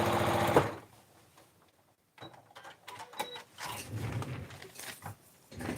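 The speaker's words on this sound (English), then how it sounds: "Take it over to the sewing machine and sew it." A sewing machine whirs in a fast mechanical stitching run, stops for a moment, then starts up again in bursts, close and fairly loud.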